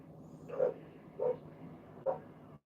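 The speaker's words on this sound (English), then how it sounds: "All right, Kiki's barking" A dog barks outdoors, three separate barks spaced roughly half a second apart, fairly faint and distant against a low background hum.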